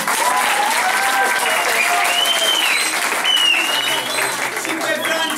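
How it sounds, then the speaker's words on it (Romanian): Audience applause fills a Romanian show as a crowd claps for a recently married couple, steady and sustained throughout, with faint voices and whistle-like tones over the clapping. "trebuie să-i aplaudăm."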